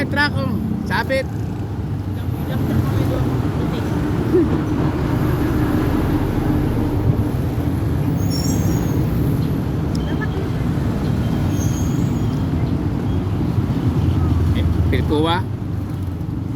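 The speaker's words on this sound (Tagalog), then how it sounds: "Truck oh." A truck passes on the road with a loud, steady engine and tire rumble that lasts throughout, while voices call out over it.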